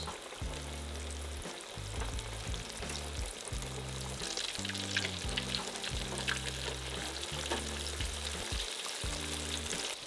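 Crappie fillets fry in oil in a two-basket deep fryer, a steady dense sizzle and crackle lasting throughout, close and fairly loud, with a low droning hum underneath.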